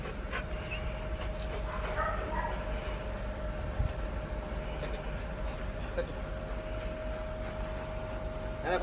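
A Malinois dog in grip training gives repeated whimpers and yips amid a noisy outdoor background with a steady hum, the cries fairly faint and intermittent.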